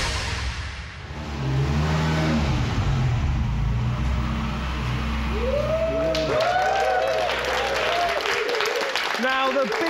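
A Ferrari sports car engine revs and roars loudly, with applause and cheering crowd voices rising over it in the second half.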